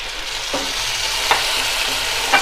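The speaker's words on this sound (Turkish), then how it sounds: "tekrar bir karıştıralım" Steady sizzling of peppers and tomatoes frying in a pan, with a few soft scraping stirs of a utensil at intervals.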